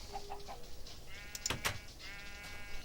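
Sheep bleating in Minecraft with the Tekkit modpack: several short, thin, quivering bleats spread over about three seconds, fairly quiet, with a faint cluck mixed in.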